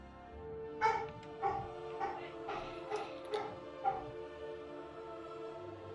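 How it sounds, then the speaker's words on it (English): Several dogs bark in bursts at home, a series of sharp yips and woofs spaced about a second apart at moderate distance, with a faint background hum and no talking. "I apologize for the barking noises."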